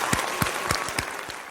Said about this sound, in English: He's clapping himself, little sea lion.